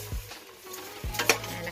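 Tomato and onion sautéed in a dry pan without oil for pork sinigang, with soft sizzling, stirring scrapes and a couple of brief clinks of a utensil against the pan.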